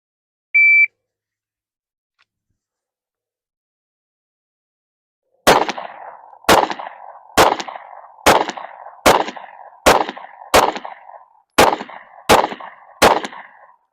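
Ten sharp handgun shots from a SIG P365 with iron sights ring out in a fast, even string after a short electronic start beep and a few seconds of silence, each loud crack followed by a brief echoing decay.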